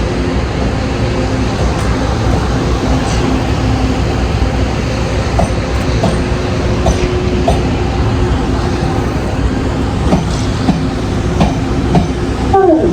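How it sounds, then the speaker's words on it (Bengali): A train pulls out of a station in Taiwan, a steady rumbling roll with faint clicks over the rails and a brief screech of the wheels near the end. "ট্রেনটা বেরিয়ে যাচ্ছে।"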